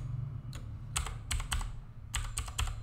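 Someone types PHP and MySQL code on a computer keyboard, leaving several separate clusters of sharp, close keystrokes with short gaps between them over a low steady hum.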